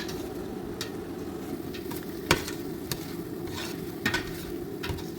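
Chili powder and turmeric being stirred into wilting onions in a pan for kabsa chicken biryani: a steady close sizzle with repeated scraping strokes and a few sharp spoon knocks against the pan.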